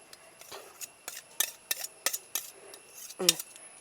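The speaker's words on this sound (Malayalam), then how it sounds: "ഇനി ചട്ടത്തിലിരിക്കണ നമുക്ക് ഇതിലേക്ക് എടുത്തിടാം" Sticky banana leaf halwa scraped from a pan into a cake tin with a metal spoon, giving a run of sharp, close scraping clinks and taps in an irregular rhythm, with a heavier knock near the end.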